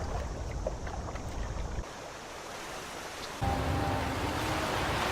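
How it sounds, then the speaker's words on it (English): Modded water ambience from Skyrim: steady broadband wash of waves and flowing water, shifting in character twice as the scene changes, fairly loud and continuous with no voices. "Lakes, rivers, oceans all have new sound effects."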